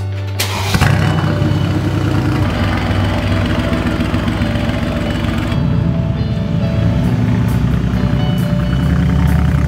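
A Mercedes G320 G-Wagon engine fires up with a sudden burst and settles into a loud, steady running drone close by, continuing without pause and without talk.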